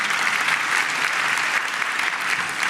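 A crowd at DeKalb County's State of the County address applauds the tax commissioner, a dense, steady wash of clapping that holds at full strength throughout without a break.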